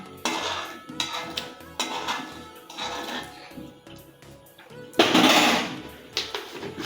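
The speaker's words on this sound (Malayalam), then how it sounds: "അതിനുശേഷം നന്നായിട്ടൊന്ന് ഇളക്കുക" Mango pickle being stirred in a pan with mustard seeds, giving repeated metallic scrapes and clinks of a spoon against the pan in uneven bursts, with a louder stretch of scraping near the end.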